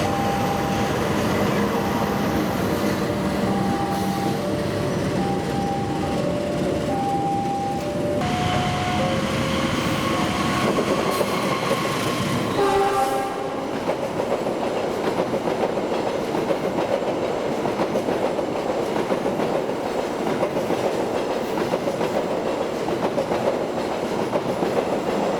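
Executive-class passenger train on Java, running on rails with a continuous rumbling roar and faint rhythmic wheel clatter, tonal hum and whine in the first half before shifting to steady wheel and track noise alone.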